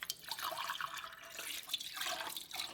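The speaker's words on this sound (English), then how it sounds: "I'm going to fill each jar with water" Water pours into canning jars in a home kitchen, a soft, fairly quiet trickle and splash with small dripping and gurgling as each jar fills.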